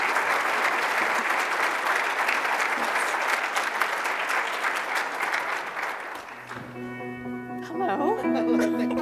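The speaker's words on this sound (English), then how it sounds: "huge round of applause" A conference crowd at NAGLREP Palm Springs 2017 applauds loudly and steadily, then the clapping fades out and a voice begins speaking over a quieter room.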